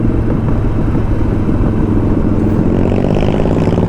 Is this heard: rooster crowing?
no